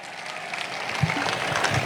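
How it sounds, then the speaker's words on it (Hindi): An audience at a school celebration for NEET students breaks into a short, dense burst of applause, steady and moderately loud. "तालियां बजा दो भाई"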